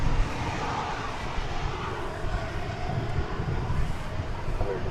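Jet airliner beginning its takeoff at Dallas/Fort Worth airport, heard from some distance as a steady rumbling engine roar with slight surges, and faint speech mixed in.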